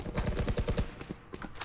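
Rapid burst of gunfire in Valorant deathmatch, a quick string of evenly spaced punchy shots followed by a few scattered louder blasts, close and sharp.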